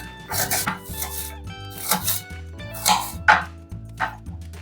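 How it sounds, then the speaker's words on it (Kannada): A knife chops onion on a cutting board in a kitchen for a crispy ladies finger fry, with a steady run of sharp close strokes in quick succession and no talking. "ಈರುಳ್ಳಿ ಕಟ್ ಮಾಡ್ಕೊಳ್ಳೋಣ."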